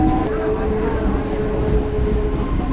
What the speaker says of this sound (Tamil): அடுத்ததாக இப்போது ட்ரெயின் நிற்க இருந்தாங்க சேத்துப்பட்டு ரயில்வே ஸ்டேஷன்